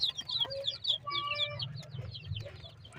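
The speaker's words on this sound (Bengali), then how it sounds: "এই যে এখানে আছে আমার মুরগির বাচ্চাগুলো" Chickens and young chicks cluck and peep close by on a farm, a steady flurry of short chirps and clucks over a low background rumble, with no talking.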